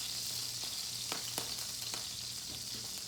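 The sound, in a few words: steak sizzling in a hot pan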